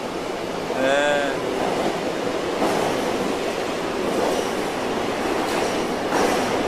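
A subway train rumbles along in a steady, loud wash of noise, with a brief metallic wheel squeal early on and faint voices in the background.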